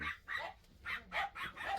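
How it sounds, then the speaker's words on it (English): Dogs bark excitedly in about six rapid, loud bursts close by, with brief pauses between them and no talking. "the dogs are going mental"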